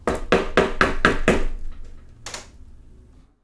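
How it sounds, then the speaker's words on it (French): Five quick, sharp knocks on a wooden door in a steady rhythm, then a single softer knock after a short pause, close and clear with no talk. "on frappa de nouveau à la porte"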